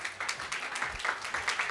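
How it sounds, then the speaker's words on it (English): Audience clapping for a guest welcomed onstage at a game-development fireside chat, a steady dense patter of many hands at moderate volume with no voices over it. "So please, a round of applause please for Justin."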